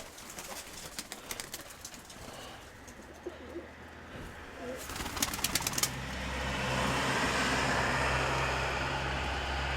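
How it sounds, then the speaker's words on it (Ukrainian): Pigeons coo softly amid rustling and bursts of wing flapping, with a steady background rumble growing louder toward the end. "Це голубка"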